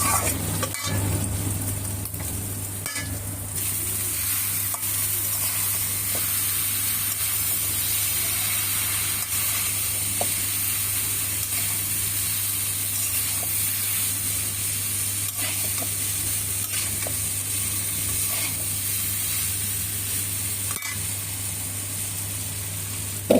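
Noodles stir-frying in a pan with green and red capsicum and chicken, a continuous close hiss and sizzle with occasional clicks from the pan and utensil.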